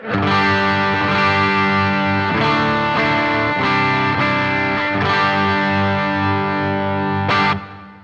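A distorted electric guitar on its bridge pickup plays sustained chords with a bright, cutting tone, strummed in several steady hits before ringing out at the end.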